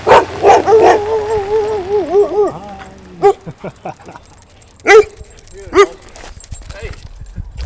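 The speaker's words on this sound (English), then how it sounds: "Yo, there's literally a car behind us with 3 dogs, and they're following the car." Three dogs bark and yip as they chase behind a moving car, sending out loud, sharp bursts close by and then several spaced barks, with traffic noise underneath.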